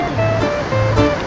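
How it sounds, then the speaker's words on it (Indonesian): Big ocean waves at Uluwatu, Bali, rolling in as a loud, steady wash of surf with a sustained rushing roar, heard alone without voices. "Ini ada ombak ya? Ombaknya besar."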